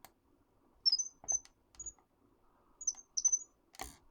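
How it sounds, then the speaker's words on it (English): Short synthetic bird chirps from an edited sound effect, several quick high tweets in bursts with brief clicks and a soft thump between, clear and alone. "So we just have the first bit of chirps there."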